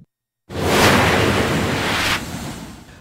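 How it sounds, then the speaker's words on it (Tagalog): Floodwater rushes loudly through a creek near an overflow bridge in Malasila, Makilala, Cotabato, a steady roaring wash that starts abruptly after a brief silence and continues without talk. "Makikita ang pagragasa ng tubig baha sa sapa malapit sa Overflow Bridge sa Malasila, Makilala, Cotabato"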